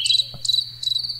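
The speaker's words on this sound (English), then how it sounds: "crickets" Crickets chirp as a comic sound effect during a party game night, three quick rhythmic bursts of high trilling, loud and close, with no talk.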